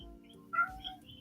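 A pet cat gives a single short meow indoors, brief and fairly quiet, set against a low background hum.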